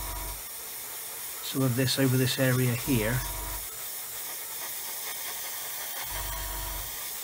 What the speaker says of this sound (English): I'm just going to lightly spray